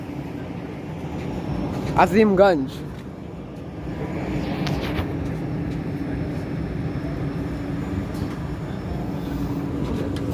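A Howrah-Kamakhya Vande Bharat sleeper train stands at Azimganj junction, giving a steady, loud rumble and hum that runs throughout under someone talking, with a brief louder burst of voices early on.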